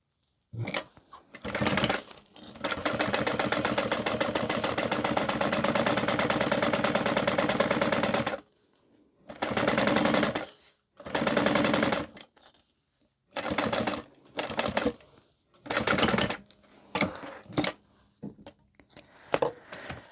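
A sewing machine stitches a laptop tote bag in one long steady run of rapid chattering, then in a series of short start-stop bursts separated by pauses, close and clear with no talk.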